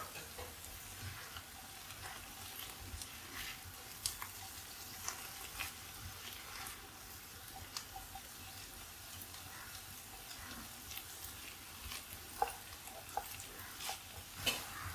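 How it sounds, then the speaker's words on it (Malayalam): Pumpkin masala with garam masala frying quietly in a pan, a soft continuous sizzle with occasional faint taps and scrapes of stirring, distant-sounding and low in level, without speech. "നന്നായിട്ട് ഇളക്കി യോജിപ്പിക്കാം"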